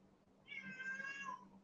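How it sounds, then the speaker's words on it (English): A house cat meows loudly at a door, one drawn-out, rising and falling cry lasting about a second, close and clear over a faint low hum. "Sorry, my cat is screaming at the door."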